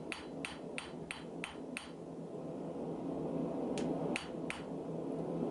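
A hammer strikes a mokume gane billet on an anvil during forge welding, sounding as sharp ringing metallic blows, a quick run of five or six, a pause, then three more.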